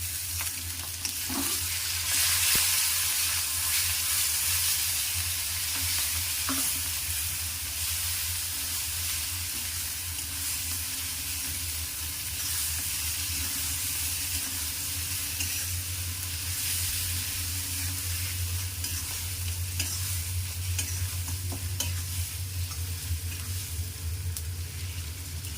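A masala of tomato paste fries and gets stirred in a pan, with a continuous loud sizzle and hiss and occasional scraping of the spoon, lasting steadily with no voices.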